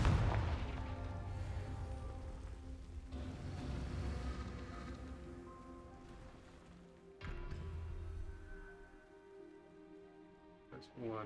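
Fire-spell blasts from Hogwarts Legacy rumble as deep booming bursts over a dense crackling bed, with a sharp hit near the end and a voice speaking over the game sounds.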